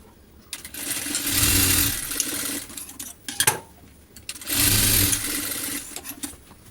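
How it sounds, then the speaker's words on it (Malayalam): Sewing machine stitching a shoulder seam in two steady whirring bursts, each a couple of seconds long, with a clack of handling between them, close up and with no talking. "അടുത്ത സൈഡും ഇതുപോലെ തന്നെ നമുക്ക് ഷോൾഡർ ഒന്ന് ജോയിൻ്റ് ഇട്ടെടുക്കാം."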